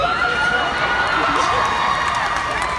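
A convention panel audience cheers and shouts in a dense, continuous roar of many voices that fills the room at steady loudness, with no breaks throughout.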